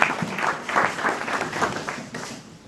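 A church congregation claps together in sustained applause for the Lord, a dense steady patter of many hands with brief swells, filling the room without any speech over it.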